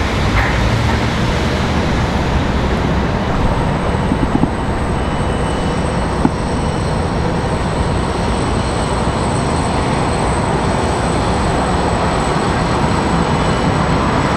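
A Boeing 737 landing at Washington Dulles gives a loud, steady roar of engine rumble with a thin high whine above it, continuous for the whole stretch, with no voices.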